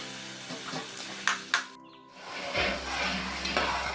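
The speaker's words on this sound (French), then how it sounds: "Par la suite, je fais revenir à l'intérieur la tomate. Je vais bien remuer." Tomato and onions fry in red palm oil while a spoon stirs them, a close, steady sizzle with a couple of scraping knocks against the pot and a brief dip before the frying noise swells again.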